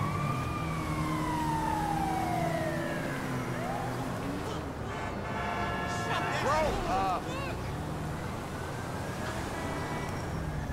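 An ambulance siren wails in the video game GTA V with long sweeping tones, mixed with city traffic rumble and a quick burst of warbling siren yelps in the middle.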